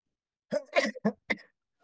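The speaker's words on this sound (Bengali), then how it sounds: "কথা বললেই কাশি ওঠে" A quick run of four short, harsh coughs, close and fairly loud, packed into about a second, followed by silence.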